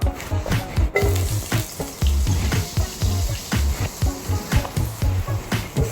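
Food is sautéed in a wok for soy sauce chicken, with a steady sizzle broken by rhythmic stirring and scraping strokes, loud and close.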